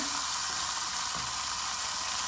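Pieces of chicken cafreal sear in a hot pan, giving a steady, close hiss and crackle of frying that holds evenly, with faint stirring as the meat is turned.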